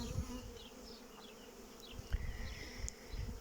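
Carniolan honey bees flying around their hive during rapeseed bloom, a soft continuous buzz with individual bees whizzing close past now and then, faint and without speech.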